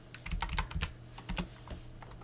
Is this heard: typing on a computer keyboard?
yes